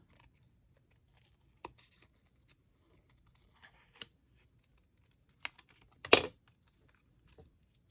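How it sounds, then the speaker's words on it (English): Scissors fussy cut around a paper leaf for a handmade Christmas easel card: a few faint, sparse snips with one louder, sharper cut near the end, in a quiet room with no talking. "Now I do want to cut this leaf, and I'm just going to kind of fussy cut around."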